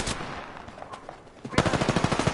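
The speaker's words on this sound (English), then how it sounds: "You're being fired from both sides." Gunfire from Apex Legends comes from both sides. Sparse shots are followed by a sudden loud burst of rapid automatic fire that stays steady and close to the end.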